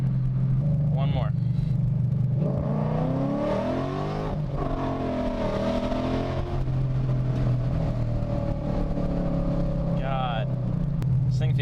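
A 2013 Mustang GT with the 5.0 V8 running on E85 pulls hard through the gears, its engine rising and falling in pitch with quick shifts under a steady in-cabin rumble while someone talks over it.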